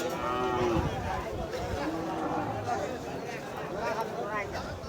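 Several thin local cows moo loudly and repeatedly amid a busy crowd at a cattle market in Thakurgaon, with people chattering and calling in the background.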